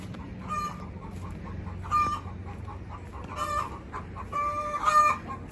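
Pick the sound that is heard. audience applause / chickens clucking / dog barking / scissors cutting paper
chickens clucking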